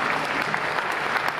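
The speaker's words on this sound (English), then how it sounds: "so give yourself a round of applause." An audience at a barbershop chorus annual show applauds, a dense, steady roar of clapping with occasional sharper claps standing out, lasting only a moment.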